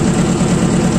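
A tractor engine runs loud and close on a rural route, a dense continuous low rumble with no breaks.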